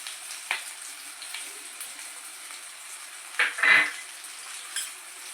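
Onions for chicken masala frying in a pan give a faint, steady sizzle, broken by a few soft stirring scrapes and one louder clatter near the middle. No one speaks.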